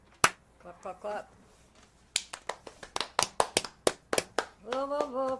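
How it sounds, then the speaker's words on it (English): A crowd claps along to music, sharp hand claps landing in a steady rhythm, with a voice singing briefly before and after, close and fairly quiet. "Clap, clap, clap."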